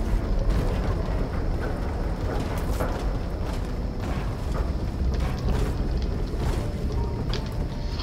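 Dense, continuous rumbling explosions from the Operation Skyfire live event in Fortnite, a steady roar of booms and crackles filling the whole stretch without any speech.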